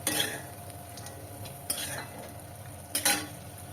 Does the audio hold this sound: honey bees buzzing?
no